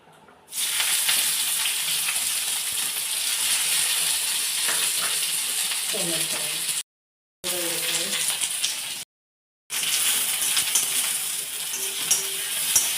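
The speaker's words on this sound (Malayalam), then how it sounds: "എണ്ണ ഒഴിച്ച് അതിലേക്ക് ഇതാ ചെറിയ ഉള്ളിയും കറിവേപ്പും" Shallots and curry leaves frying in hot oil: a loud, steady hiss of sizzling oil starts abruptly and runs on, briefly cut twice, with faint bubbling and clinks within it.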